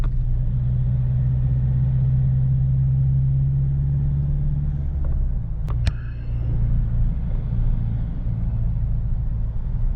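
A car drives along a road on a trip between Fang and Chiang Khan in northern Thailand, its steady engine rumble and tyre noise close and continuous, with a couple of sharp clicks or knocks midway.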